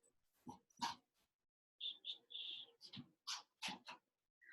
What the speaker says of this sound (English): I love that there's so many dogs on this call.